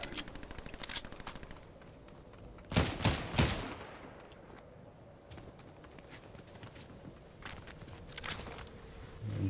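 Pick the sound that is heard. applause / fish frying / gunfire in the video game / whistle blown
gunfire in the video game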